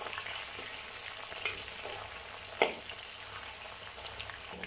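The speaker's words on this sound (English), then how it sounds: "Add the aromatics and fry over medium heat until the aromatics starts to turn brown." Aromatics frying in oil in a wok over medium heat for a Chinese hot pot soup base: a steady soft sizzle with occasional stirring clinks, close but quiet.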